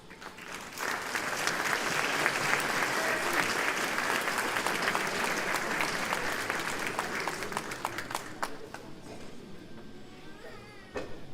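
Applause at an 8th grade continuum and awards school assembly, a dense sustained clapping from a large audience that swells, holds for several seconds, then thins to scattered claps.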